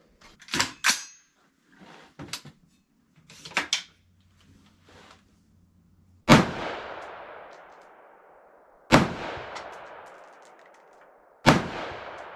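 Three loud, sharp rifle shots from a Bushmaster XM15 AR-15 at a shooting range, spaced a few seconds apart, each with a long ringing decay, preceded by quieter clicks and clatter of handling the gun.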